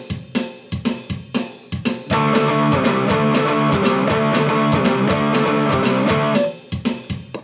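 Guitar strummed in a punk down-down-up rhythm with chord changes: choppy, clipped strokes open and close the passage, with a stretch of fuller, ringing chords in between, played alone.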